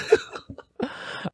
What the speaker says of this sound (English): I'm coughing because it's so fucking late at night and my body is deprived of sleep.